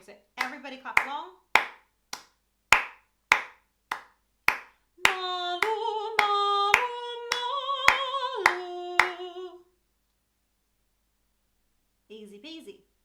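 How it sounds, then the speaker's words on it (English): A group claps along in an even two-beat rhythm, sharp regular claps that continue under a sung melodic vocal line before fading out, then a short burst of singing near the end. "So everybody clap along."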